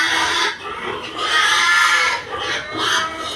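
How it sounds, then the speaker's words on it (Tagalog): Pigs on a farm squeal and grunt loudly and continuously while being fed, in overlapping bursts with brief dips, fairly close by. "Ingay ng baboy ah."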